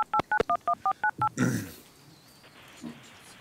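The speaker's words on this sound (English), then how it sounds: "We're trying to dial in Commissioner Townsend." Telephone keypad DTMF tones dialing into a conference call during a planning and zoning commission meeting: about eight short, evenly spaced beeps in quick succession, followed by a brief burst of line noise.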